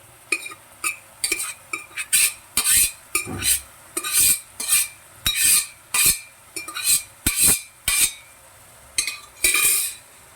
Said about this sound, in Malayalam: ഇനി വേവിച്ച് വെച്ചിരിക്കുന്ന പയർ ചേർക്കാം